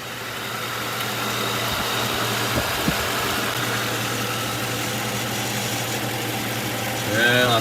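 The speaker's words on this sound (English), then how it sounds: "I think I hear that noise he's talking about. It smells like a bearing noise or belt noise." A 2003-2011 Ford Crown Victoria idles with a steady low hum and a faint whining bearing or belt noise, nearby and constant, with brief knocks partway through and a rise in volume at the very end.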